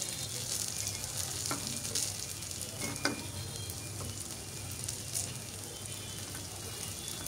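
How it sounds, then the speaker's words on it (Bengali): Pumpkin flower and lentil fritters fry steadily in hot oil, a continuous close sizzle and crackle with a few brief clicks as pieces are lifted out. "একটু রেখে রেখে ভেজে আমি এখন তুলে নিব।"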